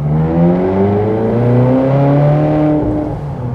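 Ferrari California 30 V8 engine revving in manual mode from inside the cabin, a loud steady drone whose harmonics climb smoothly as revs rise, then ease slightly near the end.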